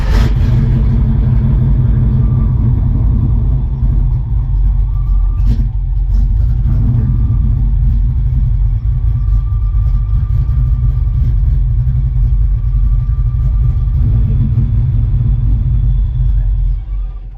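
A 1988 Mustang GT engine idles with a loud, steady low rumble that runs almost unbroken for about seventeen seconds, with small uneven surges in the drone hinting at a misfire. Faint voices can be heard beneath it.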